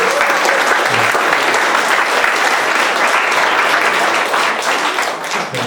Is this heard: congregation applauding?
yes